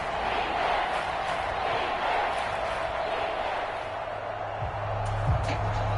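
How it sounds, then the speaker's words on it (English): Stadium crowd noise from the video game Madden NFL 24, a 1974 Steelers vs. Chiefs matchup: a dense, continuous roar of a large crowd that holds steady throughout, with a couple of brief low thuds near the end. "That just means this crowd's going to get even louder."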